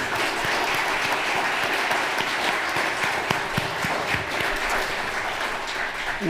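An audience at a community candidates night applauds election candidates, with steady, close clapping from many hands and a few sharper individual claps standing out above the crowd.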